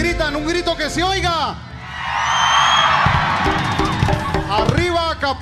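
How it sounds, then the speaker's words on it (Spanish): A live crowd at a Mexican norteño music event shouts and cheers loudly in a sustained roar, with someone speaking over a microphone before and after the burst. "gritan, un grito que se oiga"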